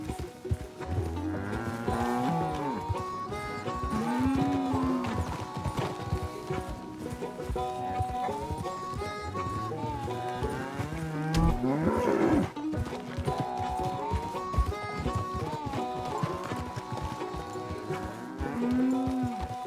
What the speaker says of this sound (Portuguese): o boi sai da estrada